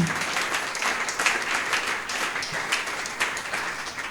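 A church congregation breaks into applause, dense and energetic clapping that carries steadily across the hall and stays loud throughout.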